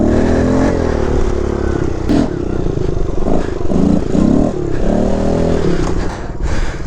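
Used Kawasaki KLX 110 pit bike with no clutch and no back brake: the small engine revs up and down in repeated rising and falling pulls, loud and close, with some rattling clatter.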